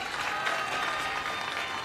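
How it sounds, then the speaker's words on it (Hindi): Crowd clapping at a political rally speech in Delhi, a dense, even wash of applause from many people, sustained and fairly distant. "एक बार ताली बजा दो अपने एमएलए के लिए सारे"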